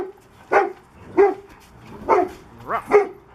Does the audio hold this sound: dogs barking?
yes